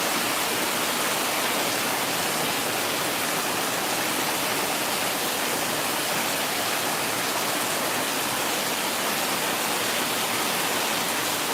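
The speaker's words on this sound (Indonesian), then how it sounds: "hujannya awet di sana, awet. Curah hujannya sangat tinggi." Heavy night rain pouring down in Padang, Indonesia, a dense, loud, unbroken hiss of falling water with no pauses.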